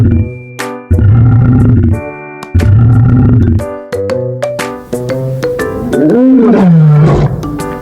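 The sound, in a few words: lion roaring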